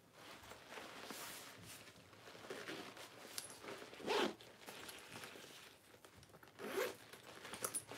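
A zipper on the front or back pocket of a brand-new handbag with brushed gold hardware is pulled open or closed, giving two short, close raspy zips amid quiet background rustling.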